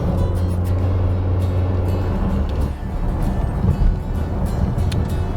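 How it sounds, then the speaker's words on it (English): The gasoline range-extender engine of a Fisker Karma plug-in hybrid runs with a loud, continuous droning note from inside the moving car, mixed with rushing wind noise. "this engine in this capacity is just loud in an unattractive way"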